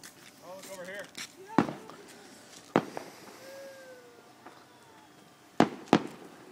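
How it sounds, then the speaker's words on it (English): Fireworks bang at a family Fourth of July celebration outdoors, several sharp loud bursts spaced a few seconds apart, with a pair close together near the end, while people chat and call out between the blasts. "Can you see the fireworks from over here?"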